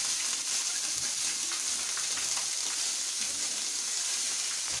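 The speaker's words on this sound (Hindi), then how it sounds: "ये जी बंद गोभी भी फ्राई हो गई है।" Shredded cabbage fries in a pan with a steady, soft, even sizzle and crackle that carries on without pause.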